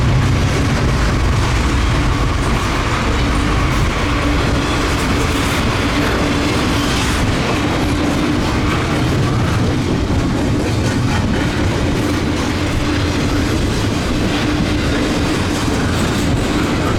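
Norfolk Southern intermodal freight cars roll past close by in snowy country, a continuous heavy rumble with rhythmic clickety-clack from the wheels and no talking.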